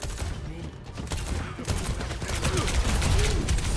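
Rapid gunfire in the video game Overwatch 2, dense overlapping volleys of shots and impacts in a busy team fight, continuing steadily throughout.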